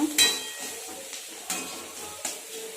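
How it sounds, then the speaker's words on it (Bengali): A lid clatters off a pot of Maggi noodles, then a spoon stirs and scrapes through them in a few soft strokes over a faint simmering hiss, close by with no talking. "এবার আমি ঢাকনা থেকে খুলে দেবো একটু নাড়াচাড়া করে নেব"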